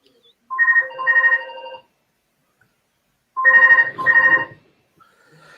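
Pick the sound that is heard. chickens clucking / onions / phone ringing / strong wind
phone ringing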